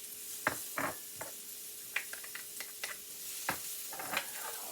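Vegetables brown in a hot pan with a quiet, steady sizzle, broken by several sharp clacks and scrapes of a utensil stirring them at close range.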